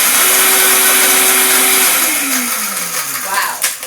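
A Vitamix blender running at top speed 10 gives a loud, steady whirring roar that shifts downward in pitch partway through as the load changes, close and continuous.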